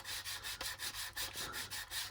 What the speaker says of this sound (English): with a better sanding stick than the little white one, it sands it away really nicely.